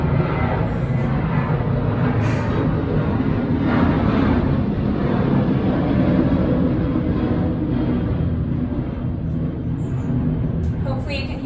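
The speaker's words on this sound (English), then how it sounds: "I'm just waiting for the plane" A fixed-wing airplane drones overhead during an outdoor workout, a steady, continuous engine rumble that holds at an even loudness throughout with no talk over it.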